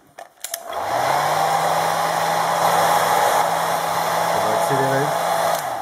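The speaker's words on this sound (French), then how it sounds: "ce qu'on va faire, c'est qu'on va faire sécher avec un sèche-cheveux." A hair dryer blows on freshly painted Dungeons & Dragons terrain tile, starting after a couple of clicks and then running as a loud, steady whine and rush close by, with a brief pitch wobble near the end.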